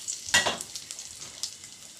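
Dry red chili, panch phoron and two bay leaves are dropped into hot oil, setting off a sudden loud sizzle and crackle that fades into lighter spitting pops over a couple of seconds.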